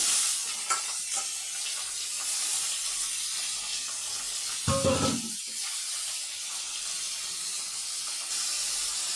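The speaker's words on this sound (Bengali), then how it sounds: "নুন হলুদ দিয়ে আমি ভালো করে নেড়ে নিয়েছি" Vegetables with salt and turmeric sizzle in a pan as a steady hiss, broken midway by a louder burst of stirring and clattering before the frying settles again.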